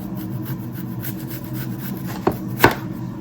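A knife saws and rubs through an onion on a cutting board, a soft, steady scraping. Two sharper taps near the end sound like the blade striking the board.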